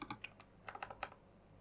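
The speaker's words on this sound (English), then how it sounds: "So let me type in Titan Gauntlet here." Keys tapped on a computer keyboard, a short burst of several quick, light clicks clustered in two groups, then quiet room tone.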